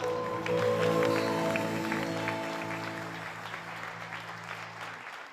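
A TV game show studio audience applauds after a stunt performance, steady clapping over sustained music chords that fade out while the clapping thins toward the end.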